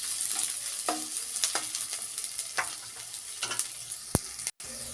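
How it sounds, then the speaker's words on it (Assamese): Cauliflower and potato fry being stirred in a pan, with a soft steady sizzle under a string of scraping spoon strokes that come at an irregular pace, and one sharp clack near the end. "অকণমান মই এইদৰে লৰাই ল'ম"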